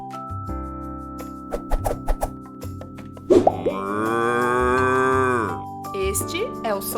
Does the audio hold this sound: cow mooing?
yes